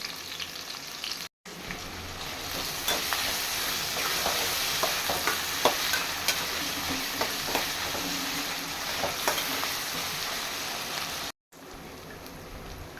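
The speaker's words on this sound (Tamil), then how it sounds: "வெங்காயம் நல்லா பொன்னிறமாக வதங்கி வரட்டும்." Onions frying in a pan until golden brown, cooked as the base for a crab curry: a steady, dense sizzle with crackling pops and occasional stirring scrapes, close and continuous throughout.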